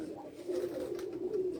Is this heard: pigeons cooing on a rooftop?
yes